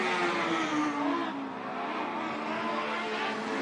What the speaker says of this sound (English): That car sliding late